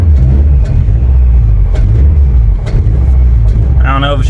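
A 2019 Subaru STI engine, built to 700 wheel horsepower, rumbles unevenly at low revs, sputtering and struggling to hold a steady idle, close by and loud throughout.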